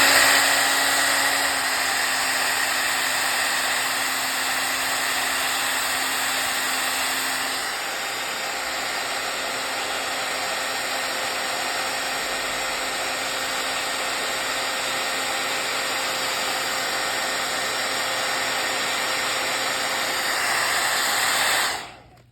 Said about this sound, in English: I'm gonna blow it dry